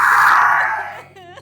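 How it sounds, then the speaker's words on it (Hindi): A high, strained wail of crying that trails off, followed by a short, wavering sob near the end, heard fairly close with no talking. "ये किसके रोने की आवाज है?"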